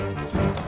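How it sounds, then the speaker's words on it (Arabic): Horse hooves clip-clop in the Stronghold Crusader strategy game, a short steady run of hoof beats over a droning game soundtrack, moderately loud with no talk. "الحصان سريع."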